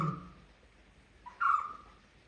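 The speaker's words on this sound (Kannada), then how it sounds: "ಎರಡೆರಡು ಹಕ್ಕಿ ಬಂತು ಮತ್ತೆ ಅಂತ ಮೂರು ಮೂರು ಹಕ್ಕಿ ನೋಡಿ" Two birds calling outdoors, a short call at the start and a louder, clearer call near the end, separated by a quiet stretch.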